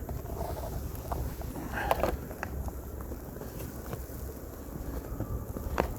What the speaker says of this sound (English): And the wind is just outstanding.